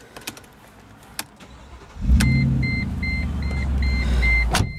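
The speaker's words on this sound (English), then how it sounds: "Great V8 exhaust burble there." A 2012 Mercedes G 550 G-Wagon V8 cranks and fires into a deep, steady exhaust burble, heard close, after a few small clicks and taps; an interior chime beeps repeatedly as the engine idles.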